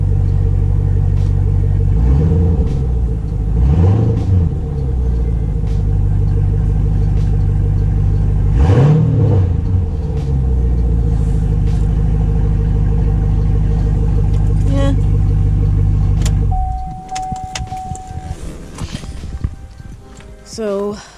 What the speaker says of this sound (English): I'll rev it just a tiny bit.